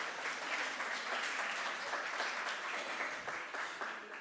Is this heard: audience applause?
yes